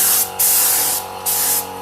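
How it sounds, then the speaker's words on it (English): A paint spray gun fires two short test bursts of paint, loud close hissing blasts separated by brief pauses, over a steady background hum. "Do the test spray."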